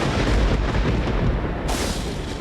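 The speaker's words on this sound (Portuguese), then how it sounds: "Teve um estrondo enorme de trovão e todo o céu se iluminou." A huge thunderclap booms through a storm high in the Alps, a loud, sustained rumbling roar that fills the clip from start to finish.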